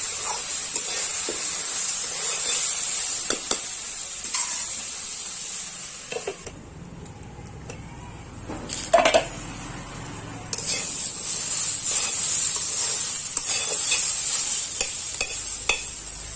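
Ivy gourd and boiled chickpeas sizzle in a pan, a bright continuous frying hiss with scattered stirring scrapes, which drops out briefly midway and then returns as strong as before.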